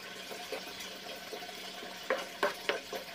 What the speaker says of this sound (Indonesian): kita masak ya, kita aduk sampai rata